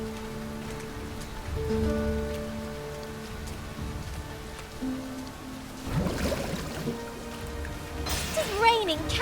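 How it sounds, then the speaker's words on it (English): Heavy rain falls steadily in the fantasy video game Dragon's Dogma 2, a dense wash of drops laid under game music and a speaking voice, with louder splashy bursts near the middle and end. "It is raining cats and drakes."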